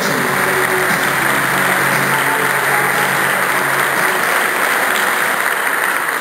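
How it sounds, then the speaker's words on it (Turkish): An award ceremony audience applauds loudly and steadily throughout, a dense unbroken wash of clapping in a large hall. "Alkışlarımız Bezbakçı ekibi için."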